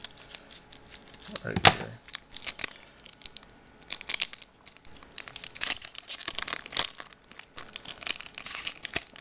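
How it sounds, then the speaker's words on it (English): Scissors cutting the cardboard backing off a Pokémon card blister pack, with snipping, crinkling plastic and rustling in quick irregular bursts close by while a person speaks briefly. "This one has a cardboard stuck to the back, so I'm going to cut it"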